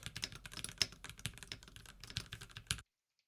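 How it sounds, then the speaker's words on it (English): Steady computer keyboard typing, quick irregular clicks and clacks of keys pressed close by, with no talking, ending abruptly in silence. "So I'm going to do the typing test again, just the keyboard itself."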